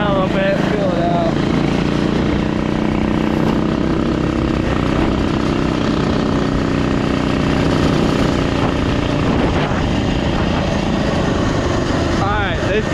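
A loud off-road mini quad engine roars continuously while driving around, a rough, buzzing, fluctuating drone with throttle changes, close and dominant throughout.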